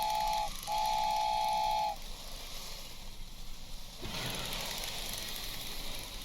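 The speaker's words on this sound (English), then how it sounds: "Looks like we've got a toy model for the train here" In the Christmas Spirit adventure game, a toy model train sounds two steady whistle toots, the first short and the second longer, over a soft rumble that continues after the whistle stops, with no speech.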